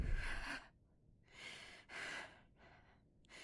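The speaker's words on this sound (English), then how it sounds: "Now she has gasping breathing." Gasping breaths of a sick patient in the game Quarantine Zone: a series of four or so harsh, breathy inhales and exhales, close and quiet, heard alone.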